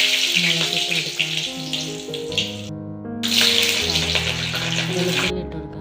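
Chillies frying in hot oil with mustard seeds and curry leaves for a Kerala okra stir-fry, a continuous hissing sizzle close up that drops out twice briefly, with music underneath.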